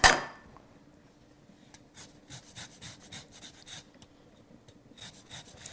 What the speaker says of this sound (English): So we're going to zest them both.